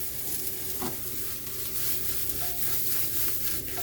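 Mushrooms fry in butter and garlic in a pan, a loud and steady sizzle broken by the scrape and clack of a utensil stirring them, with a low hum underneath.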